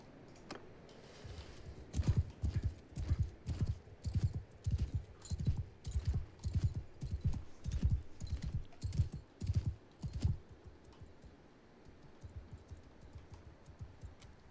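Horses' hooves clip-clopping on a battlefield in Mount & Blade II: Bannerlord, a long run of rhythmic, fairly close hoof beats in regular bursts that thin out toward the end, with no talk.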